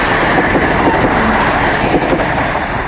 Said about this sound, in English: get closer so I can see the train.